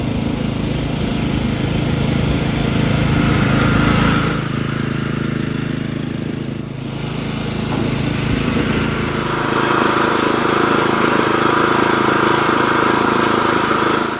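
A 25-inch California Trimmer Catalyst reel mower cutting a lawn. Its engine drones steadily and loudly throughout, with a brief dip in the middle before rising again.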